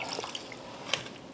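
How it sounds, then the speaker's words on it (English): Water poured into a cooking pot while thinning kwenkwen, a short run of faint splashing drips with one sharper plop near the end. "I've added about 2 cups of water now, extra."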